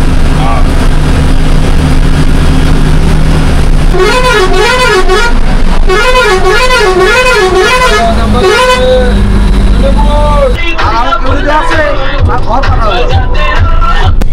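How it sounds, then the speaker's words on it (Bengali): A Kolkata-to-Haldia bus engine rumbles loudly while its musical multi-tone horn plays a warbling pattern over and over, with voices faintly underneath. "এই বাসটি হচ্ছে কলকাতা থেকে একেবারে হলদিয়া যাওয়ার বাস"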